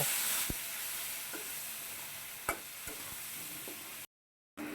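Dried chili, turmeric and salt fry in a pan, giving a soft continuous sizzle broken by a few sharp utensil taps, with a brief total dropout near the end.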